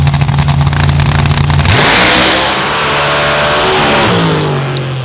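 A modified drag-racing car makes a full-throttle pass down the strip, its engine roaring very loud and close before the pitch drops sharply as it blasts past and recedes into a broad, fading rumble.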